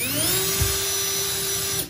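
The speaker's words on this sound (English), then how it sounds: "Now drilling." A power drill whines steadily as it bores into a wall stud, one sustained high-pitched run that holds for nearly two seconds and then cuts off.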